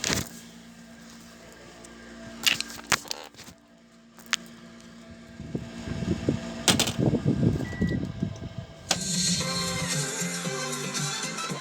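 An indoor air conditioner runs with a steady hum and hiss, broken by bumps, clatter and handling noises that come and go.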